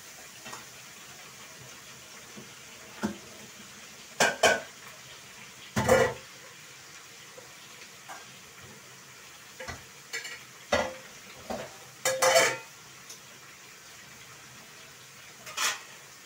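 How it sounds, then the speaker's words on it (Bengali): Onion and chicken fry in a pan under a low steady sizzle, while a utensil scrapes and knocks against the pan in irregular bursts of stirring, close by. "চিকেনটা দিয়ে দিলাম। এটা ভালো করে আমি কষাবো।"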